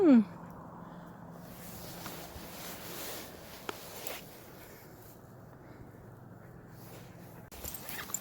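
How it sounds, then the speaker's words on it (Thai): A small dog with a fluffy, nicely coloured coat is outdoors. It gives a brief whimper at the very start, then soft scuffling and footsteps follow over a quiet, steady outdoor background. "เรากำลัง นั่งอยู่กับหมานะคะ กับสุนัขแสนรู้สุนัขน่ารัก"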